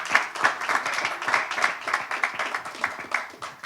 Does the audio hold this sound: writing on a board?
no